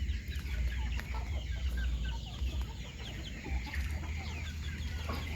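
Free-range village chickens (ayam kampung) around a coop make soft, overlapping clucks and short calls, continuous and near against a low rumbling background with occasional distant bird notes.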